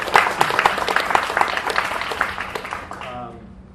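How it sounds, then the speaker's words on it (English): A small evening audience claps for the hosts and their staff, a moderate, fairly steady patter of hands mixed with talk that thins out and fades to near silence at the end. "so if we just give them a round of applause"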